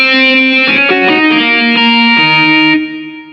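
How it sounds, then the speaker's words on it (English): A distorted guitar tone from a Casio CT-S1000V keyboard plays a few sustained, buzzy notes in a short phrase, loud and alone, fading at the end. "Distortion guitar."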